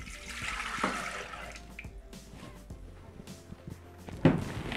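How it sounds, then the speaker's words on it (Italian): Water poured into the bowl of a Thermomix TM6 kitchen appliance to start a chicken and vegetable cream recipe, heard as a short, steady splashing gush with a few clunks and a sharp knock near the end. "Iniziamo la ricetta mettendo all'interno del boccale l'acqua."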